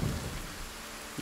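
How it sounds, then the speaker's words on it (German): Rain pouring steadily in the video game Ary and the Secret of Seasons, a constant hiss with a low thunder rumble underneath, with no one talking over it. "Es regnet einfach nur, okay."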